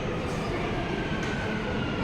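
Steady rumbling roar of a metro train at a metro station, a dense, continuous wash of rail and carriage noise close by with a voice faintly mixed in.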